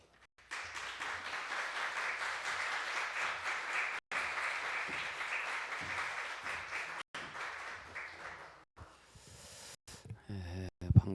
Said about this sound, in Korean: 박창환 목사님께서 나오실 때 큰 박수로 맞이하도록 하겠습니다.